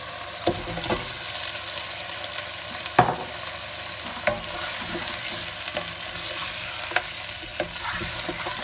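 Mutton trotters are dropped into a pot of lightly sautéed onions, and a steady sizzle of frying follows, broken by a few sharp clanks and stirring knocks.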